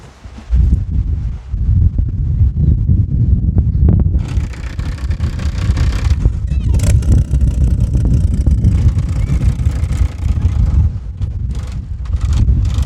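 Tuned D16 turbo Honda engine running loud and close outdoors, a heavy low rumble with rough, wind-buffeted roar that holds steady through the whole stretch.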